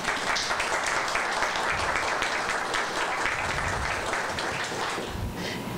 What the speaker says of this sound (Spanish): Ya hemos aplaudido